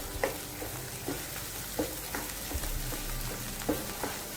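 Sweet potato sheera roasting in a pan, a low steady sizzle with regular scraping strokes from stirring roughly every half second to second, close and fairly quiet, no talking.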